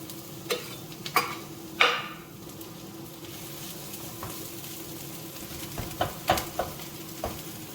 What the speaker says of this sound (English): Add the whites to the pan and then stir everything together.